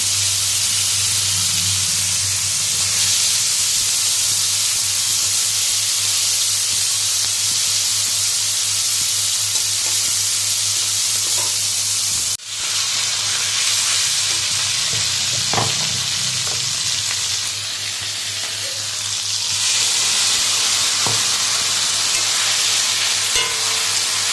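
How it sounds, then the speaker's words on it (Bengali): Bata fish fry in a pan with a dense, steady hiss of sizzling oil close by. A brief clatter sounds midway, and occasional soft stirring touches follow. "এই দেখো মাছগুলো এখন সব ভেজে নিচ্ছি"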